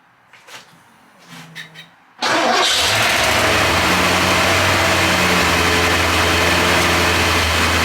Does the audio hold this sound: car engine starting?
yes